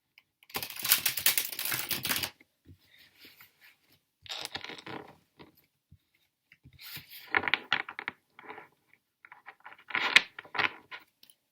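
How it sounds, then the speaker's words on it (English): Tarot cards being shuffled in several separate bursts, crisp riffling and flicking sounds up close with quiet gaps between them. "So I'm going to take away these cards and we are going to shuffle."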